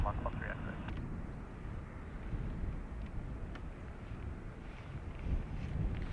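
An airliner rolls for takeoff on runway 28 right at Dublin Airport, a steady low roar heard from a distance under gusty wind buffeting the microphone, fairly faint and continuous throughout.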